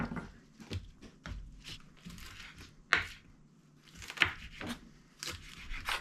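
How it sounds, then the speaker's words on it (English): Wild leeks (ramps) are chopped with a knife on a board, a quick irregular series of crisp close cuts and taps, with no talking. "I'm going to chop up some more"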